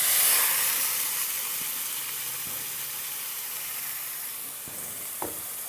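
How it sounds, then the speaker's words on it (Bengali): Marinated snake gourd and nigella seeds sizzle and fry steadily in hot oil in a wok, a continuous close hiss with a few faint stirring knocks and no voices. "এবারে আমি কড়াইতে তেল দিয়ে দেব। দিয়ে দিচ্ছি কটা কালো জিরে আর দিয়ে দেবো আমার এই ম্যারিনেট করা চিচিঙ্গাটা।"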